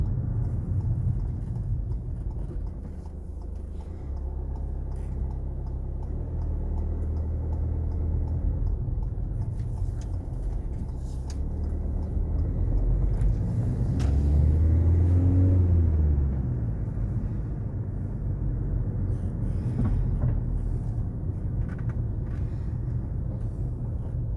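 Steady low engine rumble and road noise inside a car on a roughly 15-minute drive, with a swell of engine tone midway as the car accelerates, continuous and close without any talk.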